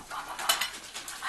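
Sewing pins dropped into a small magnetic Elvis bowl give a few light metallic clicks and taps, close and fairly quiet, scattered over about a second.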